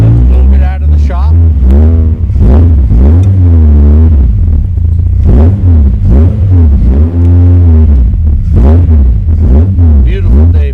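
A Jaguar XKSS recreation by Lynx, modeled on the 1956 car, rumbles loudly up close with repeated revs and throttle blips as it is driven out of the shop, a voice talking over the engine.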